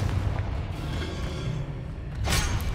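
A fire spell explosion in a Harry Potter video game, heard as a short loud blast with a bright crackling burst near the end, set over a steady rumbling game background.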